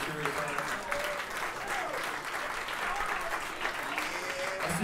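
A jazz club audience at The Jazz Kitchen applauds a band, dense sustained clapping throughout with someone speaking over it.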